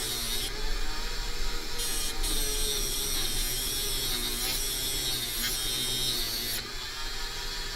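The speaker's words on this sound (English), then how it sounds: "I'm just going to use my sanding disc" A continuous high whirring grind of a small rotary sanding disc smoothing a bead, steady and fairly loud, with brief dips where it eases off the surface.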